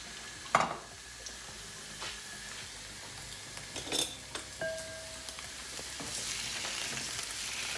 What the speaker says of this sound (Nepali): मैले यो कोलभेडालाई थोरै पकाउने छु